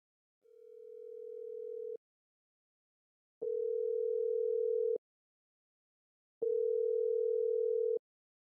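A telephone call rings out unanswered: three long, steady tones of about one and a half seconds each, evenly spaced by silent gaps, clean and fairly quiet with nothing else audible.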